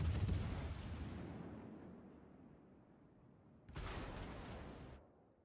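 Two heavy naval gun salvos boom in World of Warships: a loud blast at the start decays into rumble, then a second sharp burst follows and cuts off after about a second.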